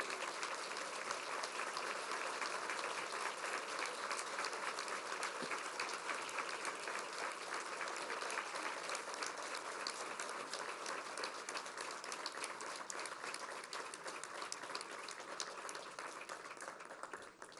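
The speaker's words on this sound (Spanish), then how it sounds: "les sugeriría rogar un homenaje con un sentido aplauso para cada uno de los que están" Applause in homage to survivors and victims at a memorial event, a sustained, even wash of clapping heard at a distance, fairly quiet and without talk.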